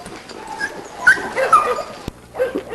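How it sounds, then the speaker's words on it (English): A dog at a yard yips, whimpers and gives a couple of short barks up close, loud and excited, in a quick uneven burst of sounds. "this is the dog we call Mabel."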